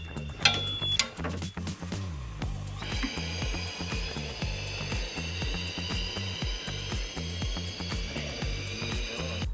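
Ratchet clicks rapidly and steadily up close while bolts on a 2025 Bronco Sport's Bilstein TerraSport lift kit are torqued, a dense rhythmic pawl chatter with a brief pause and a faint high whine behind it.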